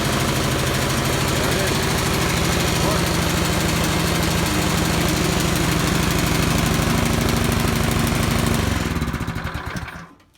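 A Craftsman snowblower engine runs steadily with a loud, rough chugging drone after a carburetor replacement, then cuts off and winds down at the end.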